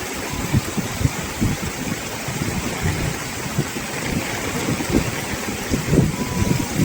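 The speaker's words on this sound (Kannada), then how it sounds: "ಯಾವ ಥರ ಮಳೆ ಬರ್ತಾ ಇದೆ" Monsoon rain falls at Kavaledurga fort, a dense, continuous hiss with irregular close thuds and patters, loud and steady with no talk over it.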